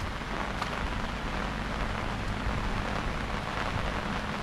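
Heavy rain pours steadily over a flooded rambutan orchard, a dense, continuous hiss of drops on water and leaves with no pauses, close and enveloping.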